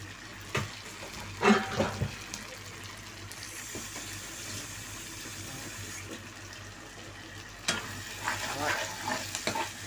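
Beans stirred and fried in a pan on a home stove: a low, steady sizzle under scattered scraping and clattering of the spoon, with a couple of louder stirring bursts near the start and end, up close.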